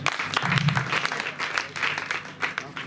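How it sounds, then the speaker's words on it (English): An audience at a school event in Ghana bursts into applause, a dense spread of clapping that carries steadily throughout, with some voices faintly mixed beneath. "Clap for her."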